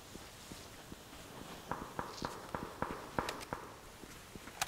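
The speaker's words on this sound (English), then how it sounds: "I thought I heard footsteps, but I can't see anything." Footsteps in the battle royale game PUBG, a run of quick, evenly spaced steps that grow louder and closer midway, then thin out over a faint ambient bed.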